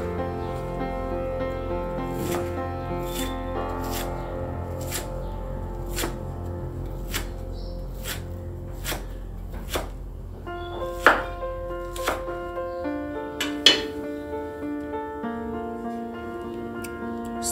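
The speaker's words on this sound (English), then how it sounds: "And cut ginger, cut onion, and cut garlic." Ginger, onion and garlic are chopped into small pieces with a knife on a board, a steady series of crisp, close knocks at roughly one per second, with a few louder strikes near the end.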